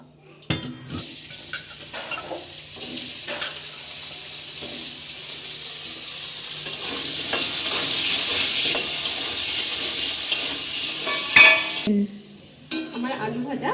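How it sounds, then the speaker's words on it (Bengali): Potatoes fry in mustard oil in a wok, a continuous loud hissing sizzle that swells and holds for most of the stretch, broken by a few clanks before stopping near the end. "এর মধ্যে আমি আলু ভেজে নেব।"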